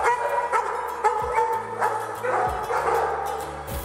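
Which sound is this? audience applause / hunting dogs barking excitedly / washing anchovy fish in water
hunting dogs barking excitedly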